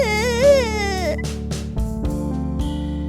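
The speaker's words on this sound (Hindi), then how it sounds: "इस जंगल में भला किसी के रोने की आवाज?" In a Hindi cartoon story set in a forest, a high, wavering voice cries and wails for about a second over a steady musical drone, followed by soft breathy sobs.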